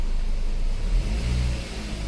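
A 2003 Volkswagen Passat 1.8T engine with misfire fault codes revs steadily at high pitch, throttle floored with the brake held, a loud continuous drone holding level with slight wavering, no voices.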